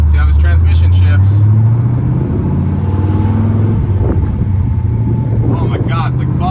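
A restored 2004 Pontiac GTO rumbles along a neighborhood street, its low engine note rising then dropping as the transmission shifts, with wind buffeting and someone talking over it.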